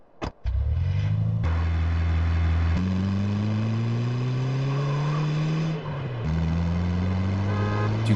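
A van driven in Grand Theft Auto: San Andreas, its engine droning loudly and steadily, revving up through rising gear shifts with a brief dip between, alone without talk.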